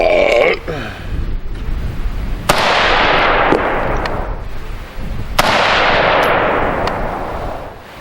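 Century Arms C308 rifle firing at a 100-yard range, three sharp loud shots spaced a few seconds apart, each trailing into a long outdoor echo.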